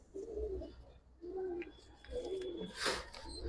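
Pigeons coo softly in a series of low, rounded calls repeating every second or so at a dove market in Old Dhaka, close by with faint background chirps and a sharp noise near the end.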